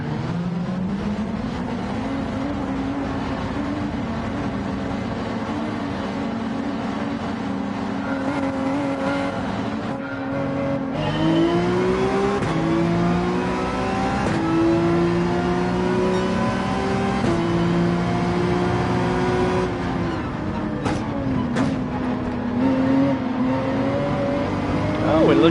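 Race car engines warming up in Gran Turismo 7, a Red Bull race car among them, hold a steady droning tone that climbs and shifts in pitch as revs rise, loud and continuous throughout, with occasional talk over it.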